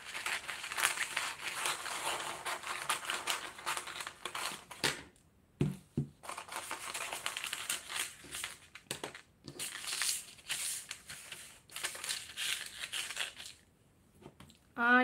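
Scissors cutting a small piece from a sheet of tracing paper, crisp crinkling snips and rustles in bursts with brief pauses, close and fairly quiet, with a short voice heard at the very end.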